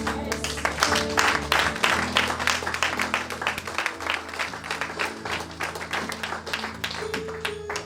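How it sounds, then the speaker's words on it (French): A church congregation applauding, a dense, sustained roar of many hands clapping for several seconds, with faint voices underneath. "Est-ce qu'on peut acclamer le Seigneur?"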